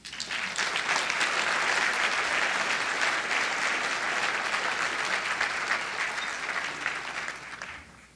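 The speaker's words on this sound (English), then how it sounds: "Now, hearty applause," An audience at the Detroit Free Press Breakfast Club gives hearty applause, dense clapping from many hands that swells quickly, holds steady, then tapers off near the end.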